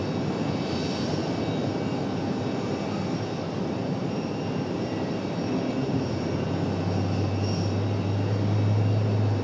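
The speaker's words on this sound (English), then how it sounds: "that last departure, Delta 1550, off to Atlanta" Delta 1550, an airliner bound for Atlanta, takes off from RDU airport at night, and a continuous jet engine roar holds at moderate distance, with a low rumble swelling toward the end.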